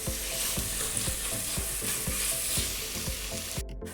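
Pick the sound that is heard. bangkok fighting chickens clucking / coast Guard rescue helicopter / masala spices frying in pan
masala spices frying in pan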